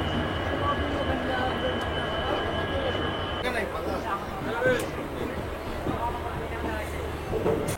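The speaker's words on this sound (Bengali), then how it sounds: "এই আমাদের হাওড়া স্টেশন থেকে ট্রেন ছেড়ে বেরোচ্ছে" A passenger train pulls out of Howrah station with a steady low rumble of wheels and carriages, faint squeals and scattered clatter, while people talk nearby over the ongoing rail noise.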